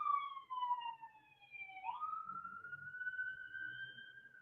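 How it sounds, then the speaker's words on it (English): An emergency siren passes by outside, its wailing tone sliding down then rising again, moderately faint and heard from a distance with no talking over it. "as the siren goes by."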